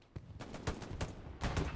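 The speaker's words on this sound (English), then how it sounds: "Grenades going off now on the backside of the house." Grenade blasts in a World War II-style online shooter battle around a house, a run of sharp, fairly distant booms and cracks at irregular intervals over continuous battlefield rumble.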